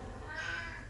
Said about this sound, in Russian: Мучается, как кошка мучается.